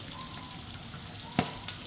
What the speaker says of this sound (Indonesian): itu daging rendang sudah mulai mendidih ya